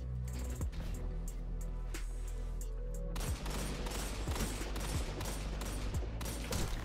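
Rapid gunfire from a weapon in the shooter Destiny 2 during PvP play, dense repeated shots with bursts continuing steadily throughout, loud and close, with no talking.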